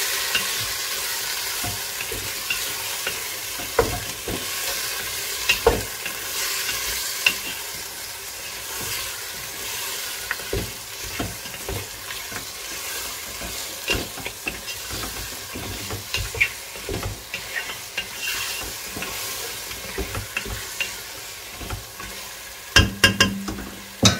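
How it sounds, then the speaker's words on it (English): Meat frying and being stirred in a pot while pilau is cooked at home, with steady sizzling throughout and repeated scraping stirs of the spoon, close and moderately loud, with no talking. "That will help to cook the ingredients properly for a bit. I'll keep stirring."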